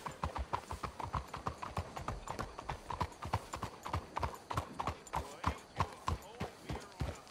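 Steady clip-clop of horse hooves trotting at an even rhythm in Red Dead Redemption 2, close and clear, with faint voices in the background.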